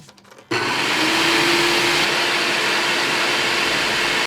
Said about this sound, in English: Food blenders.